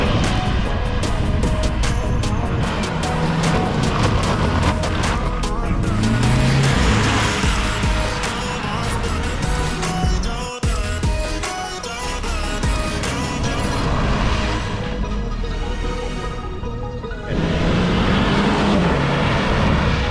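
Cars on Continental UC6 and UC7 tires running a test track course, engines droning loud and near with changing revs and a brief sharp thump partway through.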